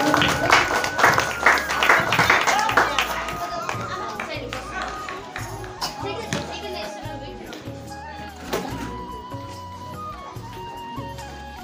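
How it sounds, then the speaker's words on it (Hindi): An audience claps at a primary school function, mixed with children's chatter and a crowd murmur, the applause strongest at the start and fading into ongoing voices. "सेटा करताली द्वारा उत्साहित करंतु"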